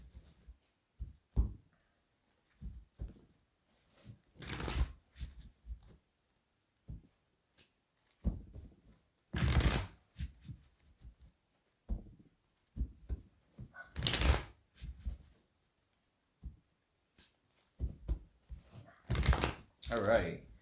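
Repeated bursts of tarot cards being riffled and shuffled, four distinct loud shuffles spaced a few seconds apart, with quieter handling taps and soft talk in between.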